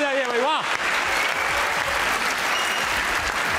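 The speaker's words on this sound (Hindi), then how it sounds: "तालियां होनी चाहिए दोनों के लिए, बेहतरीन ऑडियंस है आपके लिए, तालियां हो जाइए भाई" Studio audience on a Pakistani comedy talk show breaks into loud, dense applause that fills the room steadily, with a voice briefly heard over the opening moment.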